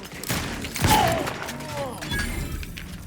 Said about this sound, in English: Someone's still shooting at us.